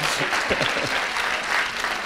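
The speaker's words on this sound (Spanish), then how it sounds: "un aplauso, un aplauso" An audience at a lecture on language and bilingualism breaks into steady applause, a dense, lively clapping that fills the whole moment.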